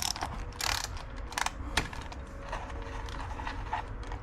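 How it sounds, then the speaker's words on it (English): Ratchet loosening the chain cover bolts on a chainsaw, quick bursts of clicking pawl strokes, close and fairly quiet. "Let's loosen these 2 bolts here."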